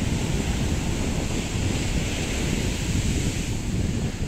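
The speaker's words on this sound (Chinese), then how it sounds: "蛮漂亮，蛮漂亮的一个海边" Sea waves rolling onto a beach in Vietnam with wind blowing across the microphone, a continuous moderate roar of surf and gusty rumble with no voices.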